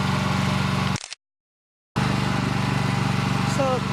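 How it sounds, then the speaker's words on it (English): A commercial pressure washer runs loud with a steady engine drone and pump hum, cuts out abruptly for about a second, then resumes at full strength. "we are using our commercial pressure washer to pressure wash all this entry"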